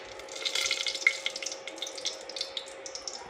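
Whole spices dropped into hot oil after cumin has browned, frying for dal in a home kitchen, giving a steady, close, moderately loud sizzle with crackly pops throughout and no talk.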